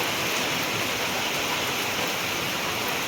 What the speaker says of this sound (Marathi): परत पाऊस चालू झाला